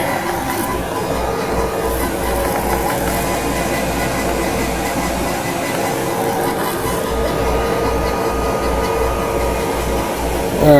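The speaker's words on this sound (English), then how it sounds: "engraving while I'm recording" An engraving machine runs steadily in the background of a room, giving a continuous mechanical drone with a rhythmic low thumping pulse that barely changes over the whole stretch.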